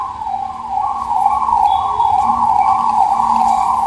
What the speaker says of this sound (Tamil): ஆம்புலன்ஸ் போயிட்டு இருக்கு